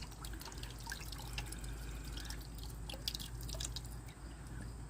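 Muriatic acid drips off antique glass bottles as they are slowly pulled out of the bath, a faint scatter of small irregular drips and splashes.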